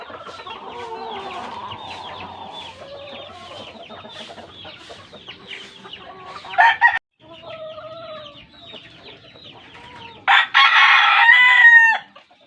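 Rhode Island Red chickens cluck and chatter nearby in a small backyard, followed by a loud, close rooster crow near the end.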